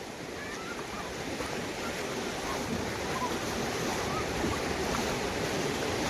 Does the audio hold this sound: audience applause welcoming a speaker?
no